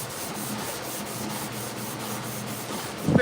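Steady back-and-forth rasp of water block sanding on a 1968 C10 hood, close and even, with a small bump at the end.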